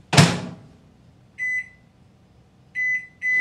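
A single clunk is followed by three short electronic beeps from a microwave oven timer being set, clear and close, with a steady pause between the first beep and the last two.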